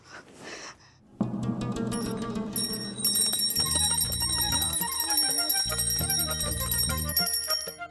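A small metal prayer bell rings repeatedly in worship of Lord Shiva, its bright sustained chimes entering after a quiet start and continuing rhythmically alongside other ringing tones.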